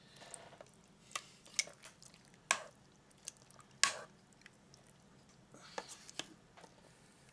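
Noodles are lifted from the bottom of the pan and swirled through Alfredo sauce for shrimp Alfredo. Soft wet squishes and drips come in irregular bursts at close range, with faint talk now and then.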